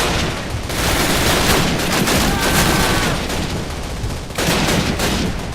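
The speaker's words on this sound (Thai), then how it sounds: "ยิงอะไรกันอยู่วะ" Call of Duty gunfire, a loud sustained barrage of rapid automatic shots and bursts with brief pauses, close and dense throughout.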